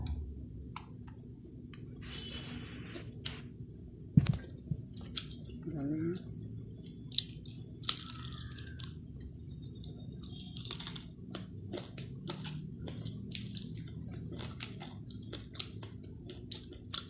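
Someone eating fried chicken legs (kodi kallu fry) with dal and drumstick curry, with soft close chewing and squishy mouth sounds and a few sharp clicks over low room noise, with no talk during the bites.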